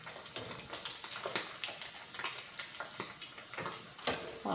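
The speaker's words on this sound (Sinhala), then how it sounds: "මම තාත්තියක් අරගෙන තෙල් රත් වෙන්න දාලා හාල් මැස්සෝ ටිකක් දැම්මාර" Small sprats fry in hot oil in an old pan, giving a quiet, close sizzle broken by repeated light scraping and stirring clicks of a utensil.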